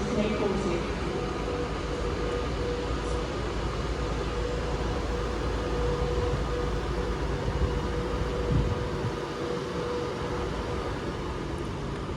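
Class 390 electric train idling at Stoke-on-Trent station, a steady loud rumbling hum with broadband hiss holding throughout, with a brief clunk near the end.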